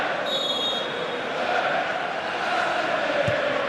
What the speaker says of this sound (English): Magnificent atmosphere, look at the crowd.